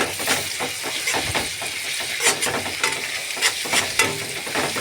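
Onion with ginger and garlic frying in a pan, a loud, close sizzle broken by repeated scraping stirs at an uneven rhythm.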